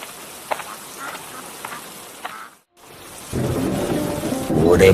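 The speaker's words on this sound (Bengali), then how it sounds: "ওরে বাপরে, কি জোরে বৃষ্টি নামছে!" Heavy rain begins to pour during a thunderstorm, with a loud broadband downpour swelling up after a quieter stretch and a brief dropout before it.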